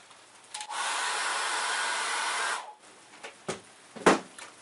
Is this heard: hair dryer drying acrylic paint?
yes